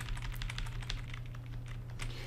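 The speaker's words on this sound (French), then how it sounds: "il faut enfoncer la touche maj, CTRL, ALT et T." Shift, Ctrl, Alt and T are pressed on a computer keyboard, giving a quick run of sharp plastic key clicks over a low steady hum.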